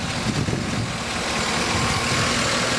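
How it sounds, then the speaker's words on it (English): A 2014 Chevy Tahoe PPV engine idles steadily nearby, a constant low rumble with a slight uneven patter in the first half second. "Very strong, very healthy engine here, folks."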